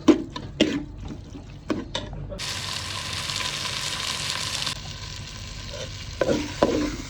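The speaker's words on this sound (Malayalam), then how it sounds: "നമ്മുടെ ചെമ്മീൻ നല്ല റോസ്റ്റായി കേട്ടോ" Prawns roasting in a spiced masala of coriander, chili and garam masala, with close stirring scrapes and clacks around a sustained sizzling hiss lasting a few seconds in the middle, no voices.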